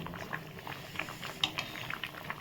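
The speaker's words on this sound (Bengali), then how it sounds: "মরবে, জলটা ফুটে ফুটে কিন্তু মরে যাবে" Water boils in a pot of rice and mung beans, giving soft continuous bubbling with small pops and patters close by.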